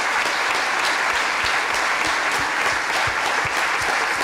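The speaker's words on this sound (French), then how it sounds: "j'aimerais ça qu'on t'applaudisse" An audience applauds a producer marking 40 years of career at an evening event: a thick, continuous wash of clapping from many hands, steady and fairly loud throughout.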